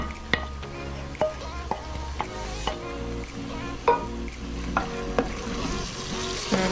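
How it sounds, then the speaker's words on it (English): Garlic and onions hit a pot of Spanish-style beef stew, giving a soft steady sizzle with sharp clinks and scrapes of stirring against the pot. "And this is the garlic and onions. Add that to the pot."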